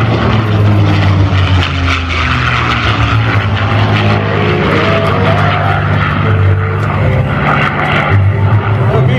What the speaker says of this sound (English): Listen to the sounds of a Rolls-Royce Packard built engine in this aircraft.